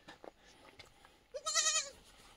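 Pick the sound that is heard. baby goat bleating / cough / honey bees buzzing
baby goat bleating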